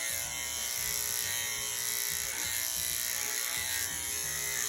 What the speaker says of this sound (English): And you can see how powerful this clipper is and how much hair I can take off just in a couple of minutes